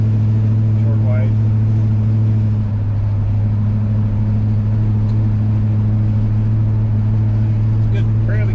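A 1960 Dodge Dart Phoenix drives along with a steady, loud, low engine hum, while someone talks briefly over it.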